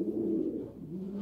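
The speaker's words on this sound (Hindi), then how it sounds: "ये शौकर है मेरा फेवरेट कबूतर है" A pigeon coos in a low, soft, continuous murmur close by, steady for a little over a second with no other sounds.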